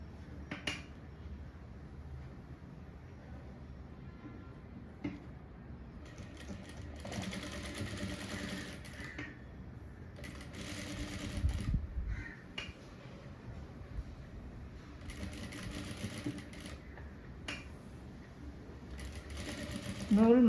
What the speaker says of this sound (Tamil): இப்படி வச்சுட்டு இப்போ நம்ம இதில் தைச்சி எடுத்துக்கலாம்